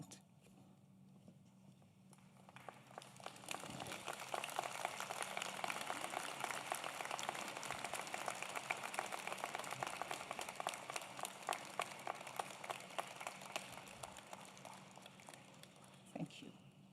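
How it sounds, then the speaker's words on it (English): Audience at a university convocation stands and applauds, a sustained wash of many hands clapping that swells and holds, distant and roomy, fading toward the end. "now would be a good time to stand and applaud all who have helped you to"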